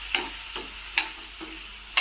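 Pork with ginger and garlic frying in a pan, with soft sizzling and the brief scrape of a utensil stirring at a regular rhythm, heard close and fairly quiet.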